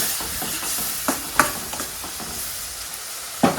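Chicken masala ingredients with tomato fry in a pan, a steady close sizzle broken by several sharp stirring scrapes and clacks, heard without talk.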